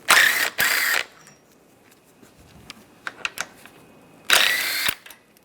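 A 10mm socket ratchet loosens the condenser screws on a 2010-2016 Cadillac SRX during radiator replacement: two rapid, loud bursts of ratcheting clicks at the start and another near the end, separated by quieter tool taps and handling noises.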